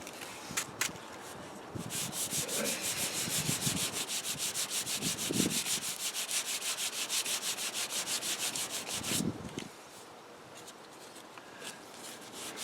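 A paint run on a Ford F-150 body panel is sanded by hand in a steady back-and-forth rhythm of close, rasping strokes that runs for several seconds, with a few scratchy touches before and after.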